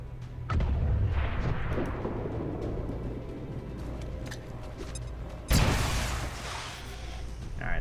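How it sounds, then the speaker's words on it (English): A grenade goes off in the video game XCOM 2 as a loud, deep blast rolls out, then fades into a rumbling tail before a second sharp boom hits near the end, with no talking. "James, drop a grenade on that Viper."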